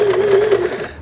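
A cheap mini home sewing machine stitches steadily, its motor giving a close, loud, even whirring hum that runs without a break before cutting off at the end.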